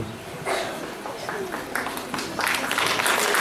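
Clapping at a 2014 school Christmas carol concert, starting thin and growing into a fuller patter of applause from the audience, with voices talking over it.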